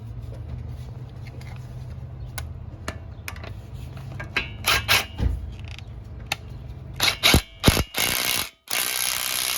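A ratchet tightens a nut on a control arm bolt of a 2011 Ford Fusion SE, quick close clicking strokes that start soft under a low hum, then grow louder and sharper in short bursts with metallic knocks.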